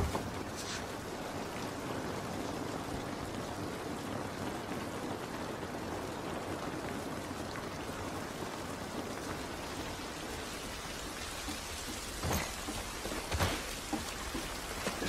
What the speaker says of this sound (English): Rain ain't gonna do us any good.